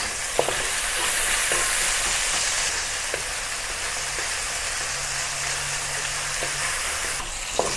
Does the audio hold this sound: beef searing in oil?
yes